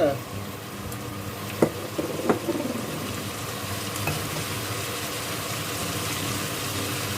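Shrimp sizzle in a wok with stink beans, shrimp paste and a splash of water, a steady soft frying hiss with a few scraping stir clanks of the spatula.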